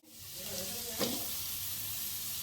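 Tomatoes and chillies fry for tomato chutney with a steady, close, hissing sizzle and one brief stir partway through.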